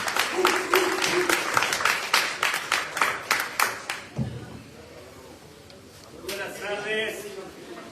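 A small group claps at a spiritual meeting of an alcoholics recovery group, a run of distinct, fairly quick claps lasting about four seconds, then quiet before a voice begins speaking.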